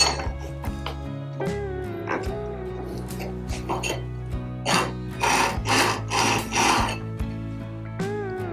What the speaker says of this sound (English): do the checking and see if the wheel is grinding in the middle